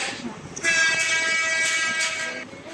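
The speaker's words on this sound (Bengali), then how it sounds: "আমাদের ট্রেন তো আস্তে আস্তে করে ঢুকতেছে" A train in a Bangladesh train simulator video game arrives slowly, sounding a loud, sustained, tonal horn that swells and holds with brief pulses over a low rumbling background.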